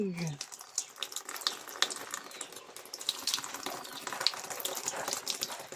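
Water gushing steadily from a tap after an outage and splashing, loud and close, with a brief voice at the start.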